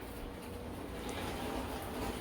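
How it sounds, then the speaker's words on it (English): Steady broadband rushing and hissing, like water spraying inside a running dishwasher, continuous and fairly quiet with no voices. "The peeing sound you hear is my dishwasher."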